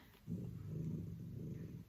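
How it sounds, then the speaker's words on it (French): A female dog, woken from sleep by neighbours' noise, gives a low, quiet, sustained growl indoors. "Et la chienne qui est pas contente d'entendre du bruit parce qu'elle était en train de dormir."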